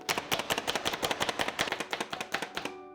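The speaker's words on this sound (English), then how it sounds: "And let's chop that up, and then we'll chop up our parsley." A knife chops fresh mint on a cutting board in rapid, steady strokes, close and crisp, about a dozen cuts per second with no talking.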